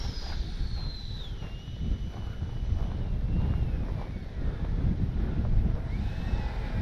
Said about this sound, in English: Woo, that wind.